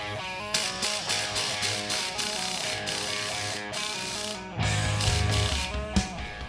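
A ratchet wrench tightens the leaf spring bolts on a Jeep YJ in rapid clicking bursts. The ratcheting is close and fairly loud, with pauses and a heavier mechanical clunk near the end, all over a steady music bed.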